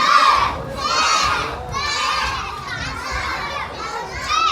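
A group of children shouting loudly together in repeated bursts at a drill-style gathering, their voices ringing close and strong with brief pauses between shouts.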